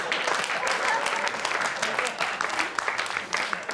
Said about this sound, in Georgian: აი ნახეთ ტაშ როგორ უკრავს. როგორ უკრავენ ტაშ.